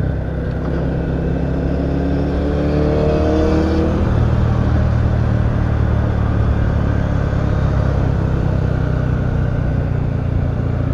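An Italjet Buccaneer 250i, a four-cylinder 250cc motorcycle, revs loud and close, its engine climbing through a rising note early on and then holding a dense, steady roar.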